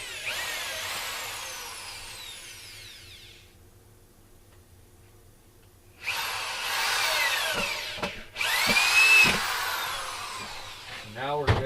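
A power drill backs a protruding screw out of wood in a chainsaw-carving workshop, in two loud bursts of whirring, the first lasting several seconds and the second starting midway after a quiet gap, ending with short knocks.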